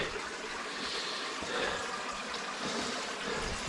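Water trickling between rocks inside Deadhorse Cave, a steady soft hiss of running water heard close by, continuous and unbroken, with no voices.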